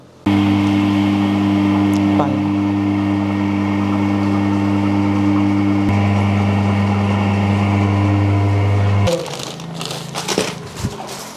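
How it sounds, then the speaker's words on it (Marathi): A loud, steady mechanical drone of a hydro dryer machine spinning water out of washed potato chip slices, with strong low hum, which cuts off abruptly near the end, leaving clattering and handling noises. "आता हे आपण ड्रायर मशीनला लावत आहे स्वच्छ धुतलेले वेपर्स आपण हायड्रो मशीन ड्रायर मशीनमध्ये टाकत आहे"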